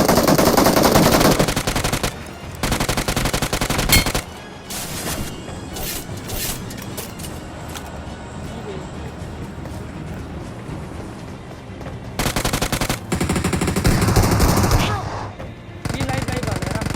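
M416 automatic rifle fire in the mobile game BGMI comes as several loud sustained bursts, with quieter game ambience between them and no talk.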